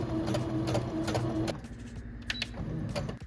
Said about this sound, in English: Now I pinned them down and now I'm just gonna sew.